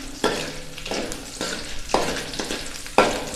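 Urad dal fries in hot oil while being stirred, producing a close crackling sizzle with sharp scraping strokes recurring about once a second.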